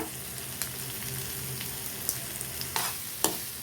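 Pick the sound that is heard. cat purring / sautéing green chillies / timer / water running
sautéing green chillies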